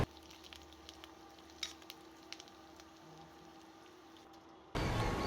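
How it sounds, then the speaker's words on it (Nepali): Taro pieces fry in hot oil in a home kitchen, giving a faint, steady sizzle with scattered small pops and stirring clicks. A louder burst of crackling hiss comes in just before the end. "हामीले तामालाई मजाले तेलमा फ्राई गर्नुपर्ने हुन्छ। म तामालाई फ्राई गर्न गइरहेछु।"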